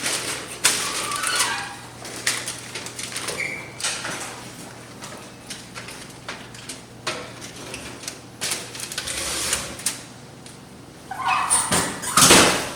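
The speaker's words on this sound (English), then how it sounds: "And then with that oven door open, I'm going to slide this whole thing inside." A foil-covered baking dish of gandule rice is slid into a home oven through its open door, giving a series of close metallic clatters, scrapes and knocks, with a louder rattling burst near the end.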